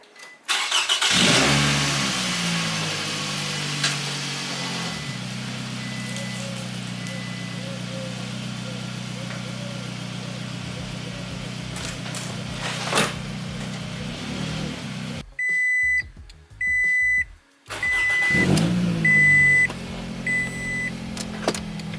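A car engine starts and idles after a transmission fluid change, settling into a steady low hum with a brief rev, then short electronic chimes and beeps as the engine stops, and someone speaks briefly.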